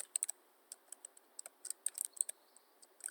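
Rapid mouse clicks and keyboard typing at a computer while working in Mathematica, crisp close taps in irregular bursts over a quiet background.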